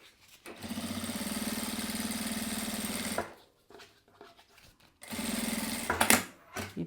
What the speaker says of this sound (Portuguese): E pesponto.